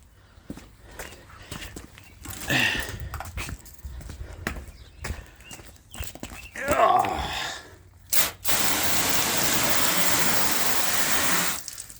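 A 1970 Jayco pop-up camper is rinsed after stain scrubbing: clatter, footsteps and handling noises come first, then a steady hose spray of water runs loud and close for the last few seconds, with a voice talking earlier.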